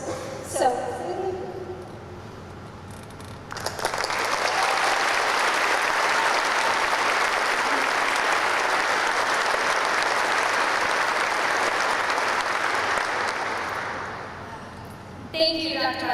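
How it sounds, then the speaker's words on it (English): An audience of US Air Force members and their families in England breaks into loud, sustained applause lasting about eleven seconds. Speech comes just before and just after. "Let's give her another round of applause"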